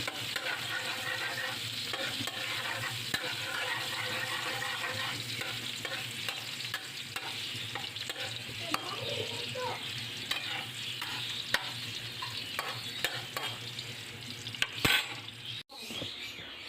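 Garlic sizzles steadily in hot oil as it is stirred for adobo, with a continuous close-up frying hiss broken by repeated scraping stir strokes and a brief clatter of the pan near the end.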